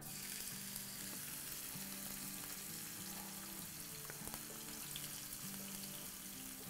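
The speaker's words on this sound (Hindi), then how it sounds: "अब इसमें हम डाल देंगे सारा हमने जो चॉप किया था ना अदरक लहसुन वगैरह ये सब चला जाएगा" Chopped ginger and garlic sizzle steadily in hot oil for chow mein, a faint continuous frying hiss with occasional stirring clicks and no talk.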